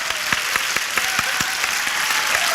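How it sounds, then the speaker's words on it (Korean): Audience applause during a talk-show style stage event, a steady wash of many hands clapping close and loud, with no voices over it. "박수 치지 마세요"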